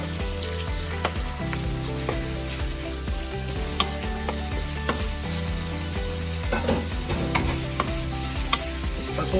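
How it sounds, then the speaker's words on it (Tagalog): Chicken sizzles and crackles steadily in a little oil in a pan, with scattered louder pops and stirring clatter over a continuous frying hiss and a low background hum. "So lagyan lang po ng konting mantika, then lagay na po natin yung chicken natin"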